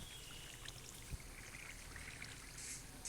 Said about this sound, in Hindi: मैं सबसे ऊपर जाता हूँ और फिर पानी डालता हूँ।